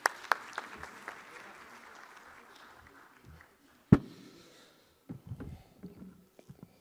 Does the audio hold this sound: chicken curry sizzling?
no